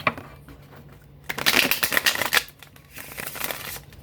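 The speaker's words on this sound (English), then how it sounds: "one more big shuffle" A deck of tarot cards is shuffled up close, a quick riffling flutter in two bursts separated by a short pause.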